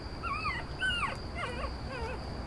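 A dog whimpers and whines in a series of four high, wavering cries after being kicked onto concrete by a drunk man, heard alone over a faint hiss and steady background tone.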